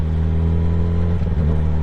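A Kawasaki ZX10R motorcycle with a freshly flashed ECU rides at low RPM, its engine giving a loud, steady, close mid-pitched drone with a slight throttle wobble partway through.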